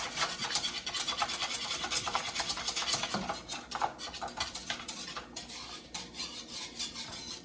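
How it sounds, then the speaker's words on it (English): A whisk scrapes and clinks rhythmically against a pot of hot apple cider with cinnamon, a steady close metallic rubbing that continues throughout. "So give it a good whisk."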